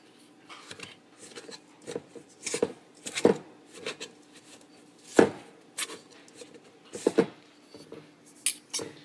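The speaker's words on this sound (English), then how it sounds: "I'm going to use my pastry cutter to incorporate it" A pastry cutter working cold, small-chopped butter into flour in a mixing bowl, giving soft irregular chopping and scraping strokes, close and moderately quiet, repeating unevenly without any talking.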